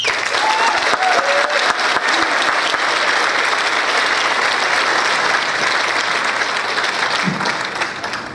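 Sustained audience applause for a city manager at a civic congress meeting, a steady dense roar of many hands clapping throughout, slightly fading at the end, with faint voices beneath.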